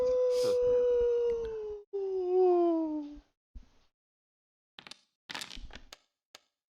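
A voice imitates a loud howl during a tabletop role-playing session: two long, sliding, tonal wails, the second dropping in pitch, followed by scattered quiet table chatter.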